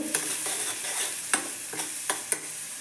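Brinjal and potato curry frying on a medium flame, a close steady sizzle punctuated by several sharp spoon clacks against the pan as it is stirred.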